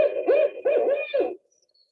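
A barred owl calls in three close, loud hooting phrases with a rough, wavering tone, then falls silent.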